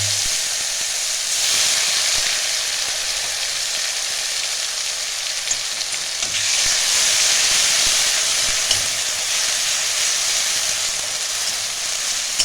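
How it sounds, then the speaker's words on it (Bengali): Onions hit hot oil for a Bengali bhola fish curry, giving a loud continuous sizzle and hiss that swells in two broad waves. "আমার তেলটা গরম হয়ে গেছে। 2 চামচ আমি পেঁয়াজ দিয়ে দিচ্ছি।"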